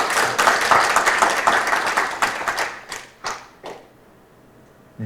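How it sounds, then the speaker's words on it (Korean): At a product safety information forum, audience applause starts full and dense, thins into a few separate claps, then trails off into near silence. "김현수 전문가님께 다시 한번 큰 박수 부탁드리겠습니다"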